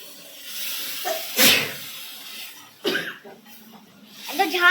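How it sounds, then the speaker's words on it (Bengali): Someone sneezes from pungent cooking fumes in a home kitchen, two abrupt bursts spaced a little over a second apart, with breathy throat sounds and a brief vocal noise between them. "এত ঝাঁঝ হাঁচি হচ্ছে"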